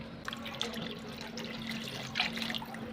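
Water is poured in small amounts into a cooking pan of vegetable stalks seasoned with salt and turmeric, making faint splashing and trickling sounds with a brief louder pour near the end.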